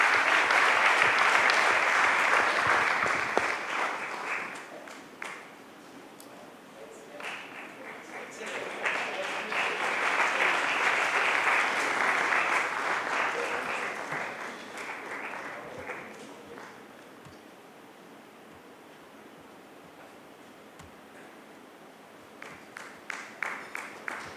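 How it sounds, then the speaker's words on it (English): Audience applause after a keynote address at an annual general meeting, sustained clapping from a large hall that swells, fades and swells again, with faint speech in places before a few scattered claps at the end. "A huge round of applause for Shri Subrahmanyam."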